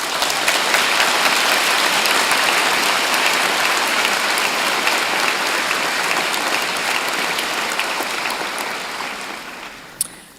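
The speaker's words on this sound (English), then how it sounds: "So I would ask you to join me in the platform party in thanking them with a vigorous round of applause" A large audience at a university commerce convocation claps vigorously in a dense, even roar of applause that holds for about nine seconds, then tapers off, ending with one sharp knock.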